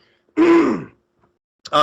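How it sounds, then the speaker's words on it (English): A single throat clearing, close and forceful, followed after a short pause by the start of another vocal sound. "Let me clear my throat real quick."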